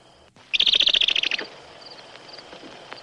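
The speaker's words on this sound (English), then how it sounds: "Bird give warning." Bird giving a warning call in woodland: a rapid burst of about a dozen sharp, high chattering notes, fairly close, then fading to a few faint calls.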